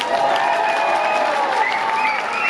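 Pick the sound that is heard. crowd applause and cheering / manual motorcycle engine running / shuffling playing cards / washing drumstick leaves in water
crowd applause and cheering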